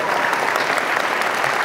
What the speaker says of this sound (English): How about a big round of applause for her and all the hard work